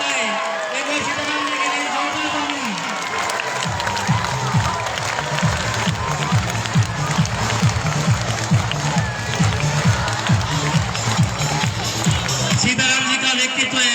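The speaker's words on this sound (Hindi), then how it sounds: "एक बार सीताराम जी के लिए जोरदार तालियां" Loud, sustained applause and clapping from a crowd at a Teachers' Day school celebration, dense and steady throughout with rhythmic hand claps and a background babble of voices.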